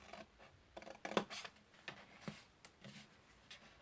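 Scissors snip paper in short, quiet bursts while notching a square for a geometric-style gift bag, several light cuts close by with brief pauses between.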